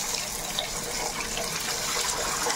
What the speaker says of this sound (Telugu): దీంట్లోనే కొంచెం వాటర్ వేసుకున్నాం.